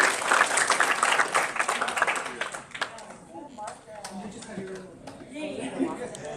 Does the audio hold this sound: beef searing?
no